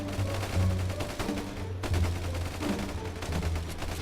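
Rapid gunfire rattles through a zombie survival video game, sustained bursts of shots layered over a constant game soundtrack, loud and dense with a brief lull in the middle.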